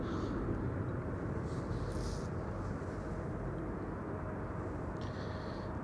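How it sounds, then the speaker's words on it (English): Transavia Airbus A321neo airliner arriving on a flight from Porto, Portugal, a distant, fairly faint steady jet rumble that holds level throughout, with no voices. "A321neo from Transavia is coming in. This is flight 6004, arriving from Porto in Portugal."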